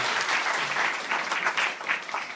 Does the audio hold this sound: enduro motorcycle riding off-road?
no